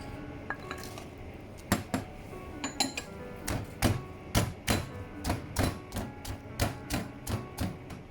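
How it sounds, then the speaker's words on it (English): Garlic cloves are broken in a Thai home kitchen while fried garlic and black pepper chicken wings are prepared. A close series of sharp, hard knocks falls in a fairly regular rhythm, building to about a dozen quick strikes. "You break the garlic."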